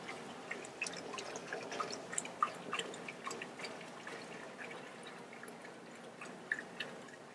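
A soft, steady trickle of water with small drips and splashes, as water is poured into a pot at close range, faint and continuous.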